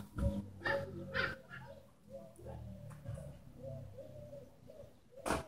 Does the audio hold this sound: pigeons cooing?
yes